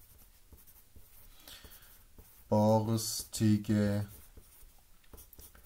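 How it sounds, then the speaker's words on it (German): Pen scratching on paper while filling in a worksheet about hedgehogs, soft continuous writing strokes running under a person speaking German. "da kann ich jetzt einfach schreiben"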